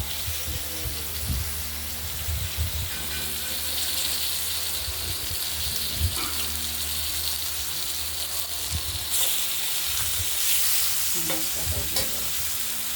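Tomato pieces go into potatoes frying in a pan for a fish curry, bringing a continuous close sizzle with repeated stirring scrapes and occasional knocks throughout, without speech.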